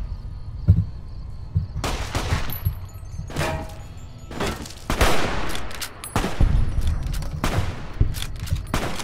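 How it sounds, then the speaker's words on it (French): Bursts of gunfire in a modded Fallout: New Vegas battle, loud rapid volleys of shots and sharp cracks repeating across the clip with booming thuds in between. "Si tu as des balles, alors tire."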